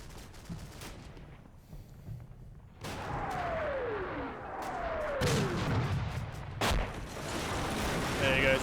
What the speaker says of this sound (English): straight off the bat, we've got some artillery